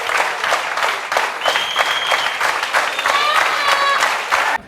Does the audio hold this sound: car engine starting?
no